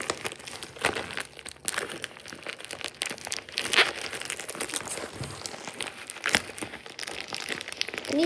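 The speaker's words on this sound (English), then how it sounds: "I'm peeling tape" Packing tape being peeled off a package of fidget toys, with close crinkling and tearing bursts, irregular scrapes and crackles throughout, and sharper rips near the middle and end.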